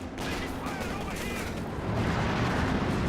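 Brummbär assault gun firing in the Company of Heroes 2 battle game, heard as a dense, continuous rumble of heavy fire and battle noise, loud and close throughout.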